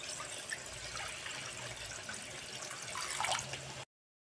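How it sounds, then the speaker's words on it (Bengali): Water heating in a wok previously used for frying potatoes, giving a steady bubbling, gurgling wash that swells slightly near the end before cutting off. "আলু ভাজার কড়াইতে গরম জল করে নেব মাংসর জন্য।"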